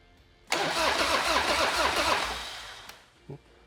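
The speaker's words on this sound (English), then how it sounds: "Motor turns over." A chopper motorcycle engine cranks on its starter without firing, a loud, close, rhythmic churning that lasts about two and a half seconds and then stops, followed by a small click.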